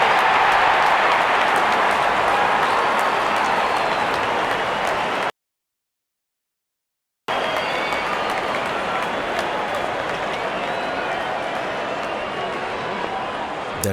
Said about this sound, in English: Out come the openers,